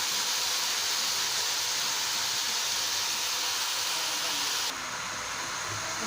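Potato and aubergine pieces fry steadily in a pan, giving a dense, continuous hiss that holds at an even level before dropping slightly softer near the end, with no voices over it.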